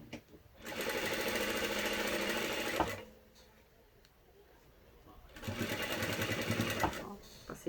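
Sewing machine stitching fabric runs in two loud continuous bursts of steady mechanical whirring, separated by a quieter pause of a few seconds while the fabric is turned.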